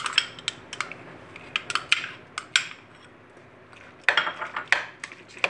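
A spoon stirs cream into yogurt in a bowl, giving irregular bursts of scraping clinks and taps against the dish with short pauses between strokes, close and fairly loud.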